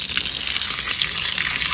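Water gushes loudly and steadily into a tank being filled, a constant hissing rush with no voices.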